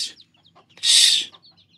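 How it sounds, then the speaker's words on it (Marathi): An angry hen guarding her chicks lets out a short sharp squawk amid a few soft clucks and chirps, close by and brief. "एक कोंबडी आहे"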